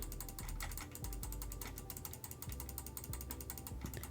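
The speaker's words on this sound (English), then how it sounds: "A lot of clicking." Rapid clicking while levelling up in Tap Titans 2, a fast, continuous ratcheting run of mechanical clicks with game sounds layered underneath, no talking.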